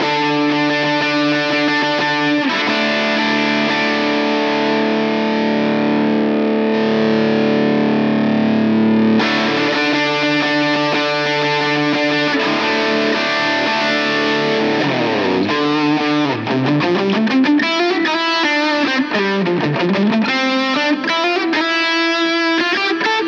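A Line 6 POD Go guitar overdrive placed after a retro reel tape emulation, heard as loud, sustained distorted chords that later break into fast bending lead phrases, with no talking.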